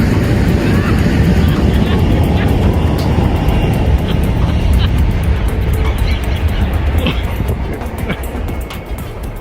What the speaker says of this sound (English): Condor's takeoff from Skiathos Airport kicks up powerful engine blasts